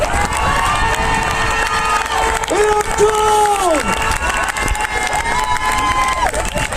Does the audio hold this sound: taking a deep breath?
no